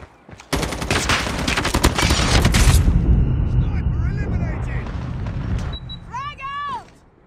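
Call of Duty match audio with a dense burst of gunfire and explosive blasts, a grenade going off in the thick of it, loud and continuous for a couple of seconds before fading into rumble, with chirping electronic tones at the end and a voice speaking.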